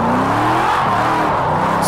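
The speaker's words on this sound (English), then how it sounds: "Let's just try to handbrake this in third gear." Kart in Project Cars 2 pulling a handbrake in third gear: a continuous loud engine whine with shifting pitch and a scrubbing tire sound, heard close up.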